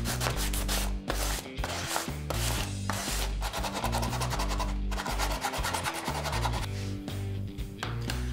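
Sandpaper rubbing steadily back and forth over the edges of a wooden sanding block padded on an old shirt, a continuous rhythmic rasping scrape, close and loud with no voices.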